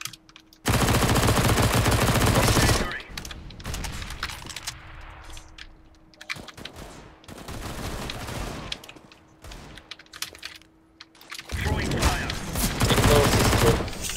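Bursts of automatic rifle fire from a Counter-Strike match on the Mirage map rattle out loudly in long sprays, separated by quieter stretches of footsteps and in-game ambience.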